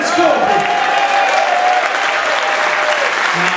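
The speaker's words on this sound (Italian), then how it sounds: "facciamogli già sentire un applauso," Audience applause at an outdoor blues festival concert in Ameno, greeting a guitarist: a dense, steady wash of clapping from a sizeable crowd, close and loud for the whole stretch, with faint guitar tones ringing underneath.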